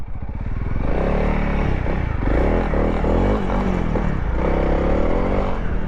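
A 2024 Honda Transalp XL750 motorcycle ridden hard offroad, its engine loud and close throughout with rising and falling revs as the clutch is worked, plus scattered clattering.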